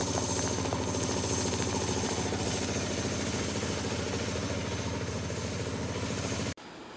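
A big air compressor running for a cast iron smelting setup, a loud, steady mechanical drone with constant rattling vibration that cuts off abruptly near the end.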